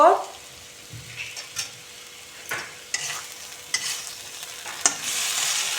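Pointed gourd with turmeric, salt and mustard is stir-fried in a pan, with scattered scrapes and knocks of a stirring utensil over a soft sizzle that swells louder near the end, close by and without talk.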